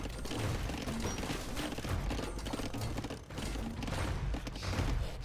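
Bombard cannons firing in an Age of Empires II battle, heard as a dense, continuous barrage of booms and thuds layered over busy game battle noise, loud and steady throughout.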